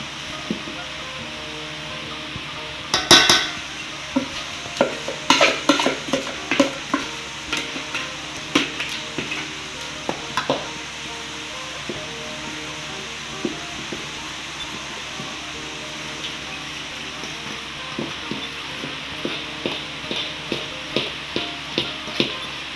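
Banana cake batter of flour, egg, corn oil and sugar being mixed in a bowl, with irregular clinking taps and scraping strokes over a steady background hiss, busiest early on and settling into a slower rhythm later.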